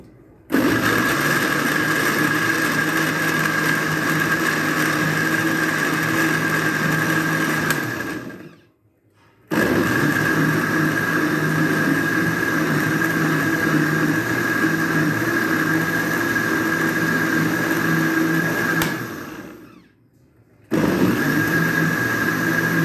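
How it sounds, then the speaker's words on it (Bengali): A blender whirs loudly and steadily as it blends raw mango sherbet, running in two long bursts with brief pauses of silence between them. "এবার এটাকে ব্লেন্ড করে নেব।"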